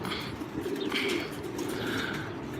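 Pigeons in a loft coo softly at close range, with a few brief chirps over a low, steady background murmur and no talking.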